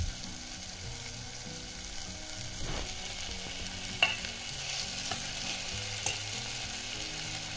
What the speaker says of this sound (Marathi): फोडणी बघा किती छान सुरेख झाली